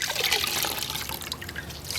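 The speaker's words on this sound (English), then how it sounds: "squeezing out the water" Water squeezed by hand out of a wet, freshly dyed skein of yarn, a close, steady trickle and dribble of liquid running off continuously for about two seconds.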